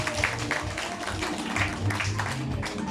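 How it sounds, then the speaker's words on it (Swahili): A church congregation claps for Jesus: steady rhythmic hand clapping from a group indoors, mixed with voices and a low musical hum in the background. "Pigia Yesu makofi"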